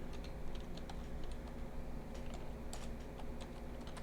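Rapid, fairly quiet typing on a computer keyboard, with irregular clusters of key clicks running steadily throughout while someone codes.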